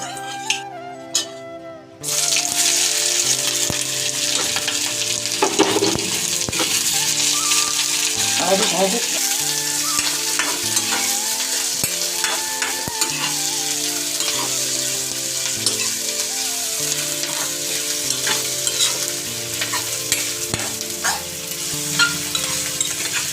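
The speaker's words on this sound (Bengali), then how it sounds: "তেলটা গরম হয়ে গেছে এখন আমরা পেঁয়াজ কুচিটা দিয়ে নেব" Chopped onion hits hot mustard oil with a sudden loud sizzle that stays steady and close, as onion is fried and stirred for chicken kosha; occasional scrapes and clinks of a spoon cut through the hiss, with no talking.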